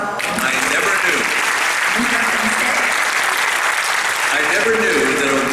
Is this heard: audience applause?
yes